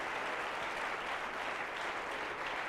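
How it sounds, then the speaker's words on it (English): A church congregation claps its hands together in a steady, continuous wash of applause. The clapping sounds soft and somewhat distant but stays even throughout. "Would you clap your hands to the Lord?"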